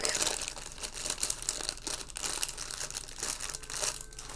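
Plastic bag crinkling steadily and close up, a continuous rustle with sharper crackles throughout while someone handles crochet hooks.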